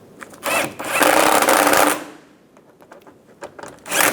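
Bolts tightened with a power tool on the front forward control arm of a 2012-2019 BMW 328i xDrive, two whirring bursts with brief clicks between, close and moderately loud, with no speech.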